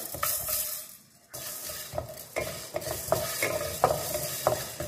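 Whole black urad dal is dry roasted in a pan for a fenugreek sweet pudding, with repeated scraping stir strokes and a light crackle close by, broken by a brief pause early on.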